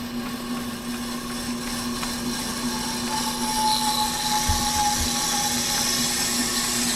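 An off-the-car brake lathe turns a brake rotor while the cutter machines its face, giving a steady continuous mechanical whine and hum with a high tonal ring, close and constant throughout with no talking.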